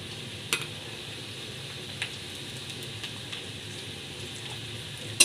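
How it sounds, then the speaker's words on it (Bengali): Ginger and garlic are stirred into mushrooms frying in a pan, a steady soft sizzle with a few faint scrapes and clicks of the spoon. "ভালোভাবে মিক্স করে নেবা।"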